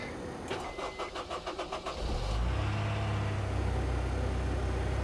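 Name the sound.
car engine starting, exhaust parts removed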